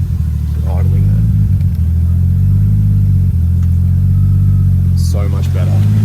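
Nissan Skyline R33 GTST, a barn find with stale fuel, idles with a loud, steady low rumble close by, while people talk over it.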